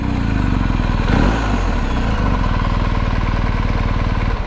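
A BMW GS travel enduro motorcycle engine runs close by at idle with a rapid, even throb, briefly swelling and blipping just after the first second before settling back to a steady idle.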